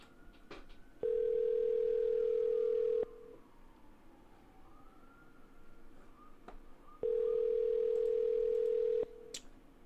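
A telephone call plays its ringback tone: two long steady purrs, each about two seconds, separated by a pause. They are faint and clear over a quiet background.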